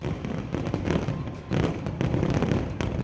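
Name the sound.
fireworks at a Vijayadashami celebration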